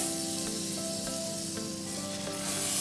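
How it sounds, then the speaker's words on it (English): A burrito toasts in butter in a pan over a low flame, giving a steady, soft sizzle with faint crackles and a few light clicks close by, with no talking. "Now we will toast this in a pan. In a pan like this, let's spread the butter"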